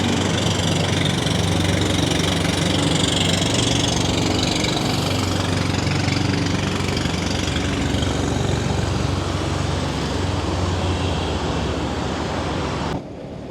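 A loud, continuous motor boat engine drone runs steadily up close in Sucat, Parañaque, with a buzzing, mower-like tone, then cuts down sharply near the end.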